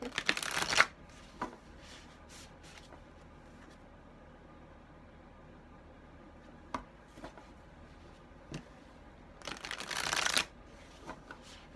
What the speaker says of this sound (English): It's making me shuffle these a lot for you tonight.